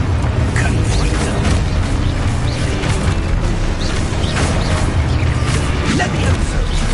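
Booming, crashing spell blasts in a Harry Potter-style video game, loud and continuous over a dense rumbling mix, with a voice calling out spell names throughout.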